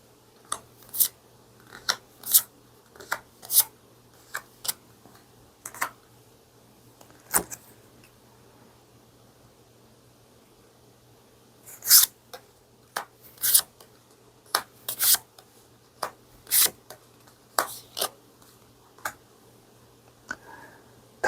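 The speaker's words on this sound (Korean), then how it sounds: "진지하게 카드를 뽑도록 할게요." Playing cards handled and drawn, giving a scattered run of soft, sharp snaps and flicks in irregular clusters, close and quiet, with short pauses and no voices.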